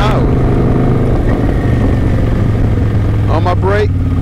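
A motorcycle ridden at about 40 miles an hour: a steady, loud engine drone under strong wind rumble, with a voice speaking over it near the end.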